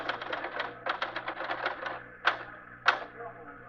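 Rapid typewriter keystrokes clatter in bursts in a 1950s radio drama newsroom, steady quick taps followed by two sharper, louder strikes, close and dry with a low hum underneath.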